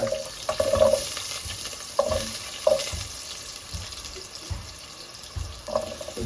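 Hard vegetables such as potatoes are fried in a pan with carrot, giving a soft sizzle under intermittent scraping and clattering of the spatula, with a few brief metallic knocks, close up.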